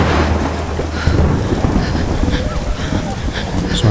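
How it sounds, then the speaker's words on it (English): Thunderstorm in the game Tomb Raider Definitive Edition: a steady wash of heavy rain and wind with low rumbling thunder, loud and continuous, with game music or effects faintly underneath. "Take shelter from the storm."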